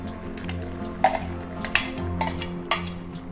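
Ground paste added to a pot of pumpkin and black chana kootu and stirred in, with a few sharp spoon clinks against the pot over a low steady background hum.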